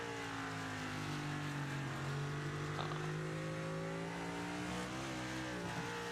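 Race car in a Belly Up Cup Series race at Mexico City, engine note steady and loud with harmonics sliding as it goes badly out of shape over bumps and is caught, continuous for several seconds.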